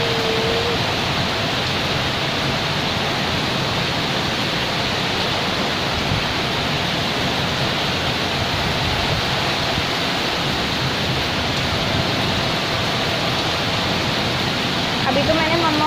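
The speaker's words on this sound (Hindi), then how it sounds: "बहुत अच्छी बारिश हो रही है यहाँ पे" Dense, steady hiss of heavy rain pouring continuously, a broad wash of noise filling the whole scene.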